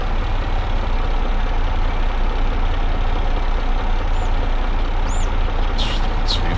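Tractor engine idling steadily at an orchard, a loud, constant low rumble filling the whole stretch with faint high squeaks near the end.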